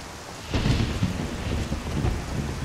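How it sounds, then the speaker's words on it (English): Steady rainfall hisses throughout with a deep, rolling rumble of thunder swelling underneath in Skyrim, close and full, with no voices. "the rain and thunder are all the way up"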